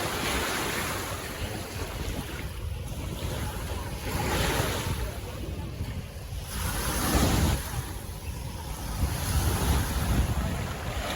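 Waves wash onto a beach in Odessa, Ukraine, in a steady broadband roar with gusts of wind buffeting the microphone, swelling and ebbing in several surges without any talking.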